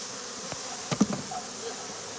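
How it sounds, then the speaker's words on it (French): Honeybees swarming on Réunion island, a steady faint insect buzz with a few brief louder passes as bees fly close by, no talking. "Quand les abeilles essaiment"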